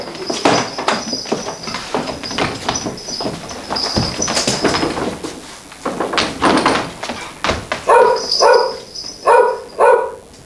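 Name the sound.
actor imitating a dog in a Peter Pan pantomime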